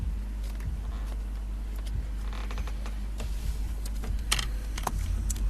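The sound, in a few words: shuffling Osho tarot cards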